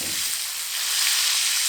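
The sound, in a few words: steak and garlic sizzling in butter in cast iron pan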